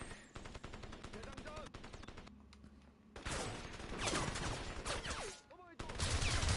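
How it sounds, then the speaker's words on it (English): Automatic gunfire in the video game Crysis comes in loud, rapid bursts, with a short lull in the middle before heavy firing resumes. "I didn't know where the bullets was coming from."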